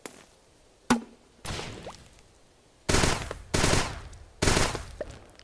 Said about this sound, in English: So we do have kind of like an assault rifle thingy.